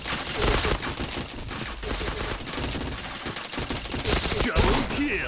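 Rapid, continuous gunfire in the video game Point Blank, dense overlapping automatic shots and impacts with brief pauses, loud and near, under a busy game soundscape without speech.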